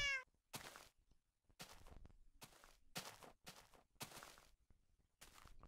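Minecraft cat giving a run of quick, close meows at an irregular rhythm, each one short and clear against near silence.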